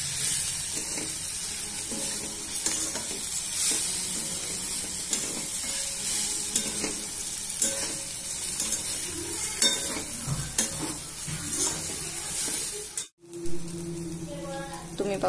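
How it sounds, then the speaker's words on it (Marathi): Vermicelli being stirred and sautéed in hot oil in a pan, giving a steady close sizzle broken by repeated scraping strokes of the spoon, with a short silent gap near the end. "तुम्ही पाहू शकता या शेवया आपल्याला अशा तेलावर छान परतून घ्यायचे आहे"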